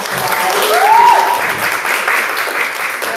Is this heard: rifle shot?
no